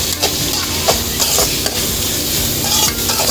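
Onions sautéing with salt in a pan, a loud close sizzle with brisk spatula scrapes and knocks against the metal at irregular intervals, no one speaking.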